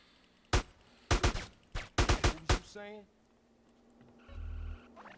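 Sharp bursts of rapid Uzi submachine gun fire in Grand Theft Auto San Andreas Definitive Edition, several quick volleys in close succession, loud and near, followed by quieter electronic tones.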